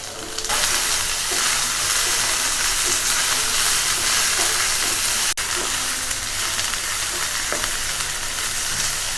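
Onion paste sizzles and fries steadily in a hot pan while a stuffed bitter gourd curry is cooked, a loud continuous hiss with a single sharp clink partway through and no talking.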